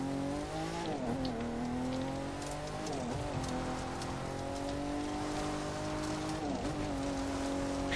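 A Nissan drives in The Crew 2 racing game, its engine holding a steady loud drone that dips and rises with gear shifts, under a constant wash like rain and tire noise, with no voices.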